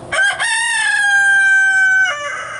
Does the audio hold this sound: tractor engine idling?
no